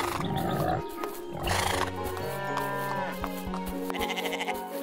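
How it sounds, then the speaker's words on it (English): A sheep bleats several times in a wavering, nasal cry, loud and close, with cartoon-like music and sound effects around it. "Oh, it's a sheep!"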